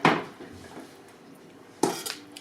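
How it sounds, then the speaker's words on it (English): Chili being stirred in a cooking pot: two distinct clanks of a utensil against the pot, one at the start and one near the end, with faint scraping in between and no talk. "We want to kind of give that just a little bit of a stir."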